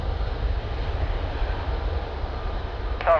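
A Ryanair Boeing 737 at Lisbon Airport gives off a steady, distant engine roar that stays even throughout, with a faint radio blip at the very end.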